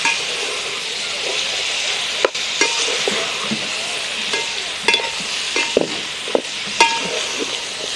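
Fish frying in a pan of oil outdoors for a fish curry, a steady bright sizzle with scattered sharp clinks and scrapes of a utensil against the pan.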